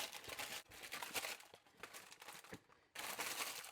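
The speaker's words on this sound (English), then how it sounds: "I like to crumple it up." Parchment paper crumpled by hand in a home kitchen, giving a steady, close, fairly quiet crinkling and crackling that runs throughout with one brief lull.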